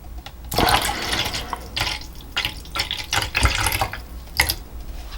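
Water pours and splashes into a measuring cup in uneven bursts, close and fairly loud, with gurgling surges between short pauses.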